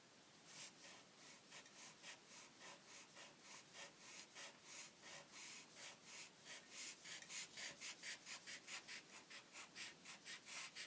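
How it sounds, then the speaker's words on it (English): A pencil eraser rubs back and forth on drawing paper, a soft rhythmic scrubbing of even strokes that quickens and grows a little louder toward the end, quiet and close with no talking. "And then we're going to use the eraser."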